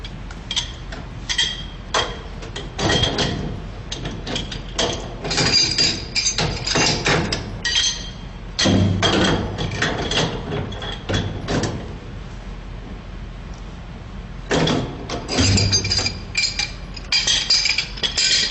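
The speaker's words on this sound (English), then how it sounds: "I'm going to tighten my union, again making sure you're using a backup wrench." Wrenches tightening the gas union on a high-turndown DJ burner, with a backup wrench holding the fitting: repeated metallic clicks, clinks and ratcheting scrapes in uneven bursts, close and moderately loud, with short pauses.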